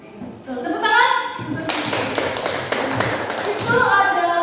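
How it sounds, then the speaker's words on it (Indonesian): Scattered hand clapping from a classroom of students breaks out between a teacher's spoken lines, a dense burst of claps mixed with voices, moderately loud and close. "Tuh, tepuk tangan."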